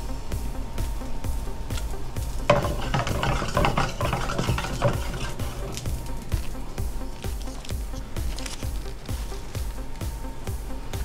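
Leek sauce finished with butter, stirred in a saute pan: soft scraping and sizzling with repeated rhythmic stirring strokes, close and moderate in level.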